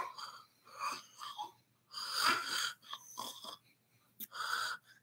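A person imitates snoring with a series of raspy, wheezing inhaled snorts and breathy exhales in an irregular rhythm, close to the microphone and fairly quiet, with pauses between the bursts.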